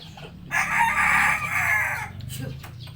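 A loud, close rooster crows once in a long, strained call lasting over a second, followed by softer clucking and background noise.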